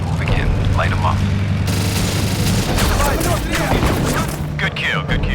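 Gunship cannon fire and heavy explosions in a video game, loud continuous bursts and booms layered with radio chatter and voices throughout.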